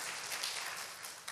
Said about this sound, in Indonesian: Boleh kasih tepuk tangan terlebih dahulu untuk ibu-ibu hebat kita.